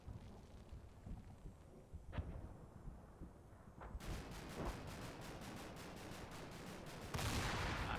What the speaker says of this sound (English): That's the mortars